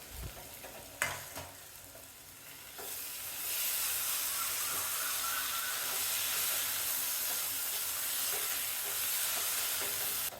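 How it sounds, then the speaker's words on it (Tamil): Chopped coriander leaves being stirred into a prawn masala in a pan, a brief clatter and then a loud, steady sizzle and hiss that build and hold for the rest of the stretch. "பொடிசாக வெட்டின மல்லி இலை 1 கப் அளவுக்கு அதையும் சேர்த்து வதக்கணும்."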